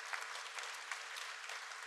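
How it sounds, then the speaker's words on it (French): Brief, even burst of applause from the audience at a diploma ceremony, a continuous wash of clapping heard from a distance at low level. "On les applaudit très fort"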